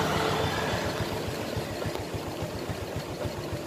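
A 2007 Honda Future Neo GT motorbike engine, stock, idles close by with a steady low, even putter throughout, no voices.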